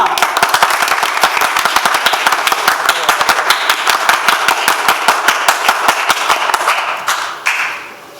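An audience at a stage event applauds, loud, dense and fairly rhythmic clapping that holds steady for several seconds, then fades out near the end.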